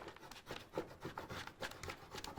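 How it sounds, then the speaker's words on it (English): A scraper tool rubs repeatedly over Cricut vinyl laid on a notebook, making short, close, soft scratchy strokes in a quick uneven rhythm with no voices. "So scrape and pull at the same time."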